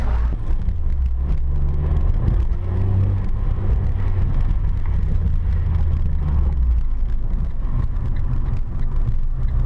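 An Abarth car driving on a hot, sunny day, with a steady, loud engine hum and road rumble continuing throughout, seemingly heard from inside the cabin.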